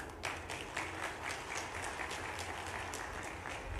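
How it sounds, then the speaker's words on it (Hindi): Audience applause at a tribal community political rally in India, dense steady clapping from a large crowd, even and sustained for the whole stretch. "ठीक है, ताली मत बजाओ"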